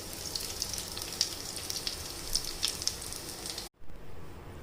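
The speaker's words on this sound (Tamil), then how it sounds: "மீடியம் ஃப்ளேவரில் அப்படியே பொரிச்சிடலாம்" Soya, vegetable and paneer cutlets frying in oil, giving a soft, steady sizzle with faint crackling pops. It cuts out abruptly near the end.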